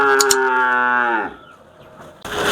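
A Holstein Friesian heifer lets out a single loud, close moo that holds steady and then fades, followed by a brief quiet pause before other farm noise returns.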